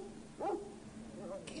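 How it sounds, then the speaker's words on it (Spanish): A dog in a comedy film scene, ordered to attack, gives a short yelp or whimpering bark amid faint room sound, with brief voice-like sounds around it. "ese perro la destrozará. Es un asesino."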